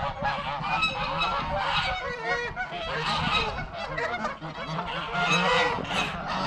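A crowd of ducks and geese at a lake honks and calls over and over, loud and close, in overlapping squawks that continue without a pause.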